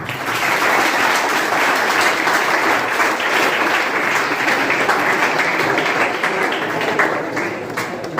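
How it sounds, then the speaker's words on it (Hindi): Enthusiastic audience applause at a college orientation program, a large hall of clapping hands held at a steady loud level for several seconds with only faint voices beneath. "तालियां बजाइए।"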